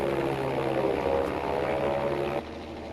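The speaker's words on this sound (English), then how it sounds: "So start killing the throttle, which I'm doing right now, and then pull up to gain altitude." A propeller plane engine droning steadily in Battlefield V, loud and close, then dropping abruptly in level as the throttle is cut near the end.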